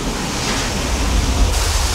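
Spring water flowing from mountain granite in the Himalayas makes a steady, close, broadband rushing wash with a deep rumble underneath, continuous and without pauses.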